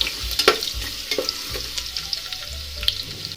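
Ginger-garlic paste, cumin and mustard seeds fry in hot oil in a pan, a constant close sizzle broken by the scrape and tap of a spoon stirring, with no talking.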